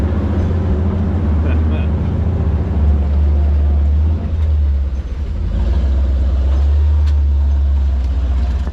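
A Can-Am off-road vehicle pushing through deep creek water gives a loud, steady low engine drone with churning wash, and people talk over it.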